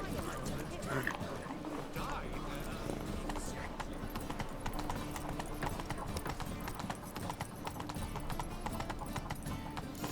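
Roach the horse clip-clopping in The Witcher 3, hooves thudding steadily under continuous game ambience with voices talking over it.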